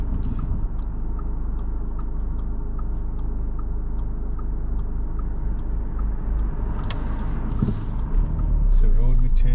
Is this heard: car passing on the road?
yes